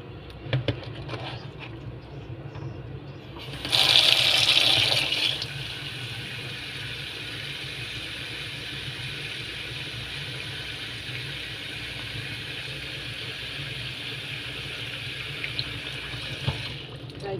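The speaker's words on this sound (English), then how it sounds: "This is how I water plant my flower every day." Water poured onto potted flowers, a brief louder gush and splash partway through, then a quieter steady trickle continuing underneath for the rest.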